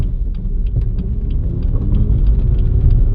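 A BMW F80 M3 pulls in to park on a sunny Oregon day, its engine a steady low rumble close by, alone without talk.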